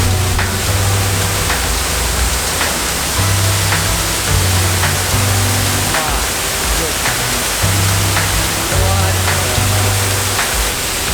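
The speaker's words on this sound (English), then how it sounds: "He's got they're catching water from the waterfall in the bucket." A Norwegian waterfall near Bergen roars steadily as loud broadband rushing water, close by and constant, with a low droning hum and scattered faint clinks underneath.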